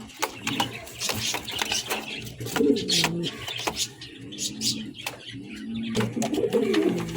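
A male pigeon cooing repeatedly nearby in low, throaty rolling calls, with scattered clicks and rustles between them.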